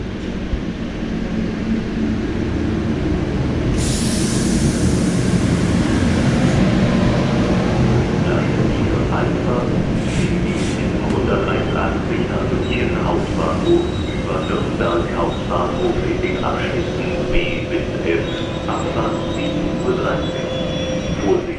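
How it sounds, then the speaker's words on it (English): An ICE T train rumbles into a station platform, a steady low roar with a hissing burst of air brakes and squeaky metallic clanks as it slows. "here we can take a look at the train arriving"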